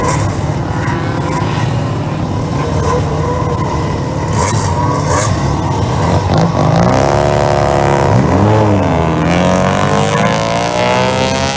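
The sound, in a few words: race car driving on track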